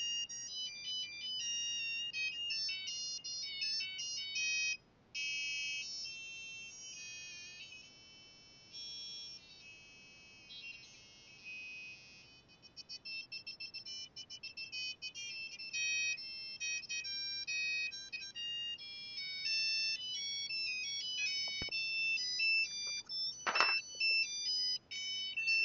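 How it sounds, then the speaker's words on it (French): Electronic beeping ringtones from a Sony CMD-Z5 mobile phone play one after another, each a bright chirpy melodic pattern with short gaps between tunes, fairly close and clear. "Les sonneries de l'époque."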